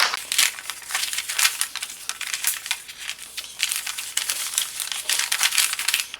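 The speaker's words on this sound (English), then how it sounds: "let's remove the paper cover for the holes." Paper cover being peeled and crinkled off the mounting holes of a luminous wall clock, a continuous close, busy rustling and crackling with bursts of tearing and crumpling throughout, no talk.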